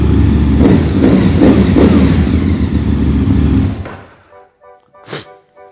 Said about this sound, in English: that is a deep, sonorous sound of thunder and hell, and that is what motorcycles should sound like